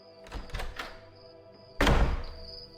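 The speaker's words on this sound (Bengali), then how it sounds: "সমর বাড়ির সামনে দাঁড়িয়ে দরজা খুলতে খুলতে" A door opening as a sound effect in a Bengali horror audio drama: a few light knocks and handling taps, then one louder, rattling thud close by, with no voices.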